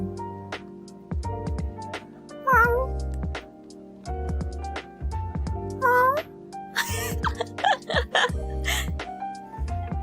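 A person imitates cat meows with their voice, several rising mewing calls spaced over the clip, close and fairly loud over a steady low musical background.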